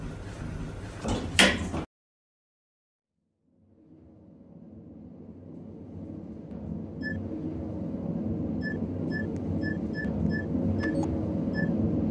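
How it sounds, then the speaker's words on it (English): Elevator doors in a Roblox game slide open and shut with a soft thud, followed by a steady low hum of the moving car and a few faint electronic beeps, with no one talking. "Doors opening. Going up. Doors closing."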